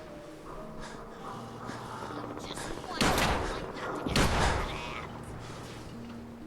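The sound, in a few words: laser pistol gunfire in Fallout 4 video game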